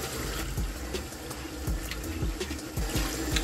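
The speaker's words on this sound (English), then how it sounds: "I just do a quick little water rinse again" Tap water runs steadily into a sink for a rinse after brushing teeth, a continuous close hiss and splash with small gurgling surges and no talking.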